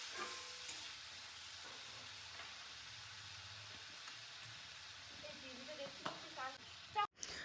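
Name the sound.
spices being sautéed in a pan for hilsa fish curry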